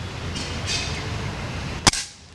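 A single sharp gunshot from a weapon at an interactive military exhibition in Uzhhorod, a sudden crack near the end against a faint background murmur, with no talking.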